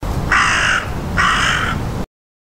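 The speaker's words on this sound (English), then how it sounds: "Crow." Two loud, harsh crow caws in quick succession, each drawn out and raspy, close up with no other sounds around them.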